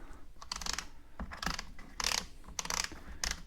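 Nuts on the bar cover of an EGO Power Plus 18-inch chainsaw are loosened with a tool, giving several quick clicking, ratcheting bursts in an irregular rhythm, close and faint, with no talk.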